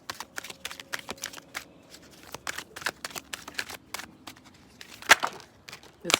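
A deck of cards is shuffled up close in a run of rapid, crisp riffling bursts and flicks, loud against a quiet room, with one sharper snap near the end.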